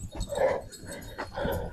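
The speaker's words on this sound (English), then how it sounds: "He's a crazy dog." A dog whines and yips in short, close, moderately loud bursts over rustling ambient noise, with no clear talk.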